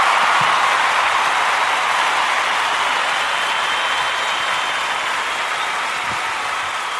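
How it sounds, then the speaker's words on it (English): Steady, dense applause from a crowd honouring Captain Tom, a continuous wash of clapping held at an even level from start to finish with no voices over it. "There's a round of applause for you."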